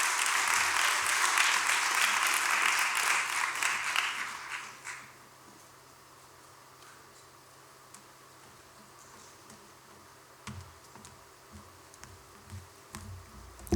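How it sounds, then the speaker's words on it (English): Conference audience applause rises as a broad wash of many hands clapping, fairly loud and sustained for about four seconds, then fades into a quiet room with a few scattered sounds and soft noise. "have a round of applause for her"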